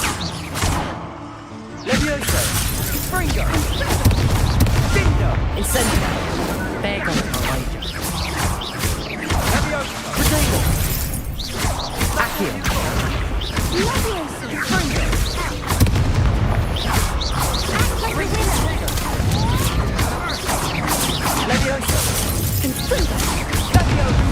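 Confringo spell blasts in the video game Hogwarts Legacy: repeated booming explosions and crashing impacts during a duel, loud and dense throughout, with combat shouts mixed in.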